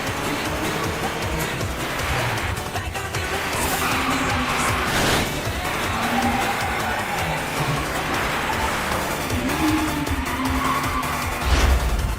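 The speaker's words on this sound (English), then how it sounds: "Drifting, huh?" Skyline GT-R BNR34 V-spec II Nür drifting in an Initial D 4th Stage race, engine roaring continuously with tires squealing through the turns and a dense mix of music and game sound over it.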